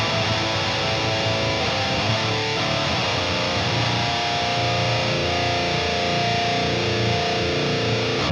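A high-gain Archon amp preset plays a thick, heavily distorted electric guitar, a dense saturated wall of sound held steadily for several seconds with no talking.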